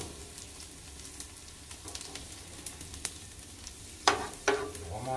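Peppers hitting hot oil over high heat for arroz negro, a steady low sizzle with a few sharp crackling spikes near the end as they land in the pan.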